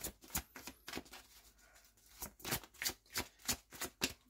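Oracle cards being shuffled by hand during a card reading: a quick burst of riffling, a short pause, then a steady run of rhythmic shuffling strokes, close and fairly quiet.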